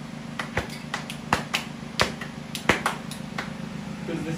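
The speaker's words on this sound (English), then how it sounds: "Slow clap initiated." Slow, deliberate claps at uneven intervals by a small group celebrating an engine fitted into a vehicle, sharp individual hand strikes over a low steady hum, with brief quiet voices in between.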